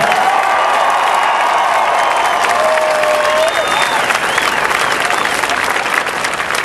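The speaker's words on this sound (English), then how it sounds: "Please give a big round of applause to Ken Salazar." A large crowd at a 2008 Obama campaign rally in Grand Junction breaks into loud, sustained applause and cheering that fills the space evenly from start to finish, with faint tonal sounds running underneath.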